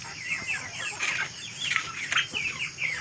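Months-old chicks and free-range chickens cluck and chirp in short repeated bursts, close by and lively, with no talk over them.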